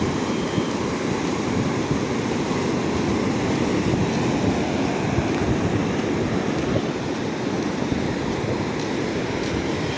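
Strong sea waves surge at Suryalanka beach near Bapatla, a loud, continuous roar of surf with no clear breaks and no voices.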